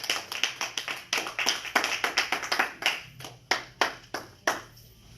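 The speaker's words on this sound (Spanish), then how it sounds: "Póngase de pie, denle un aplauso al Señor en este momento." A church congregation claps for the Lord during a Spanish-language service, a run of sharp, quick claps at first that thins into a slower, sparser beat of a few distinct hands, fairly close and alone.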